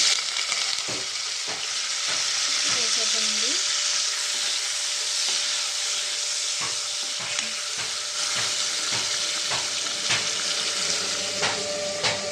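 Onion, green chili and curry leaves frying in four spoons of oil for a spicy cucumber and dried prawn curry, a steady loud sizzle with occasional stirring clatters and scrapes throughout.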